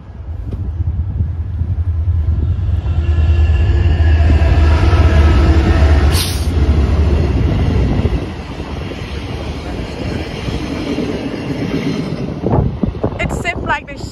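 A train rolls past along the Toronto waterfront, a loud, close, steady rumble with rattling wheels and heavy wind buffeting the microphone, fading slightly toward the end.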